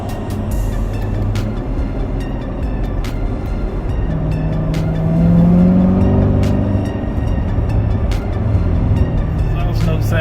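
Chevrolet Corvette C7 Z06 V8 exhaust note in manual mode, a steady loud engine drone with a rising rev swell around the middle, heard close with no talking.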